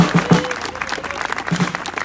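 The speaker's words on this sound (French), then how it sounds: "Applaudissements." A crowd at a political rally claps, a dense, loud burst of applause that carries on through the whole moment without speech.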